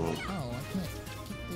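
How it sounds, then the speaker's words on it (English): A pet dog barks and yips in short bursts close by, mixed in with a person talking over it during a game stream. "Was that your stomach? That is my dog."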